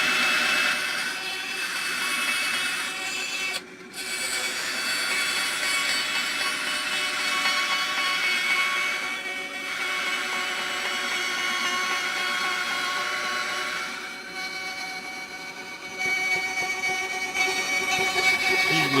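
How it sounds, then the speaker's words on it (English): A scroll saw cuts wood for a DIY slingbow, making a steady whining, rattling buzz that shifts in pitch as the cut goes on, with a brief break early and no talking. "Usually better not to back out when you're cutting with a scroll saw"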